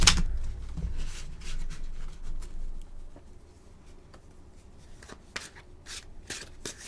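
Tarot cards being shuffled in quick bursts of riffling and soft flicks, close by, with pauses between runs and no talking.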